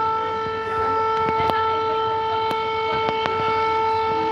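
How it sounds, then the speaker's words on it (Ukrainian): An air raid siren holds a steady, droning tone throughout, loud and continuous, with a few faint clicks underneath. "О, Повітряна тривога, чуєте?"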